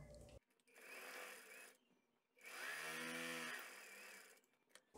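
Sewing machine stitching the side and bottom seams of fabric for an aromatic pillow, a steady mechanical whir in two runs with a brief pause between, close and fairly loud.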